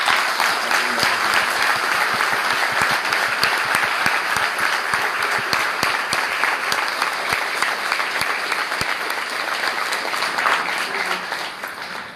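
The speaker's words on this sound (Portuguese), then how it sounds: "por favor, bata palmas para isso." Crowd at an Umbanda lecture in a hall clapping in unison-like waves, a long, loud, continuous spell of applause with sharp individual claps, tapering slightly toward the end.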